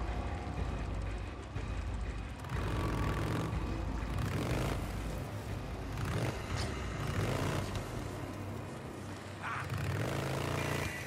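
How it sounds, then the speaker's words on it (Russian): A motorcycle engine roars in the video game Days Gone, a loud, continuous rumbling drone that swells and dips over several seconds without pause. "Так, мотоцикл шумит,"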